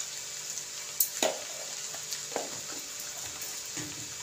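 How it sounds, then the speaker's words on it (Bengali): Egg chicken chow mein with vegetables is stir-fried in a pan, a constant sizzle broken by a few sharp scraping and tossing strokes, close up with no voices. "ভালো করে নাড়াচাড়া দিয়ে নেব, মিক্স করে নেব।"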